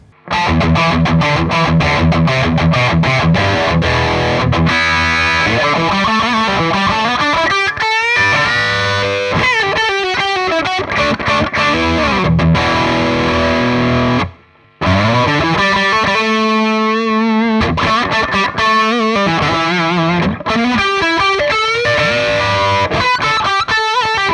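Heavily distorted electric guitar through a Peavey 6505 Plus high-gain amp tone plays chugging riffs and chords, thick and loud, continuous apart from a brief silent break midway.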